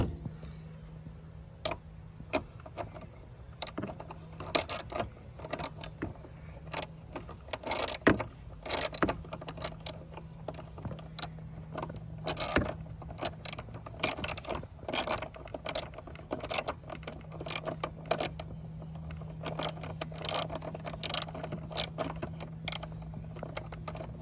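A socket wrench clicks and ratchets on the car battery terminal of a 2018 Toyota Prius, irregular sharp ticks and clacks over a low steady hum, close and fairly quiet.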